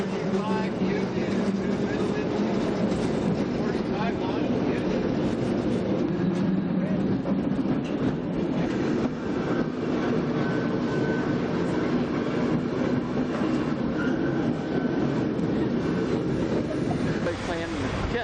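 A San Francisco cable car near Powell and Market Street prepares to depart, its machinery giving a steady rumbling clatter and hum throughout, with people talking over the noise.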